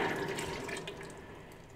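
Stock poured over butternut squash risotto ingredients in a pan, a brief steady watery stream that is close and moderately quiet, fading gently over about two seconds.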